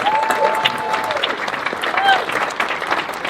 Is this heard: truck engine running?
no